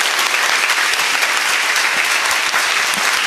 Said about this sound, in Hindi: और जोर से ताली बजाओ हमारी भवभूति मैया के लिए।